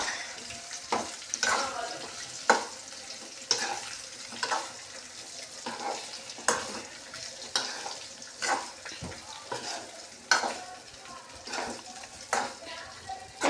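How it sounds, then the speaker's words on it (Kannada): Chillies stirred and fried in a pan, with a steady sizzle broken by repeated scraping and clinking strokes of the spoon, close by and fairly loud throughout. "ಈಗ ಮೆಣಸಿನ್ಕಾಯಿ ಹಾಕಾದ್ರಿ. ಈಗ ಕಲ್ಸಾದ್ರಿ."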